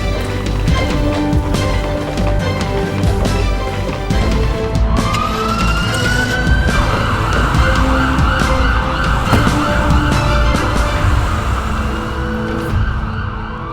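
An ambulance siren from a hospital's emergency medical team rises and wails steadily, loud and continuous over a dense wash of traffic and other background sound.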